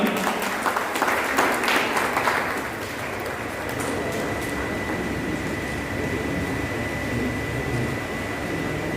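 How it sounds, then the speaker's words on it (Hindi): An audience at an award ceremony in Haryana claps heavily at first, then the sound settles into a steady, softer wash of applause that continues to the end. "एक बार जोरदार तालियां।"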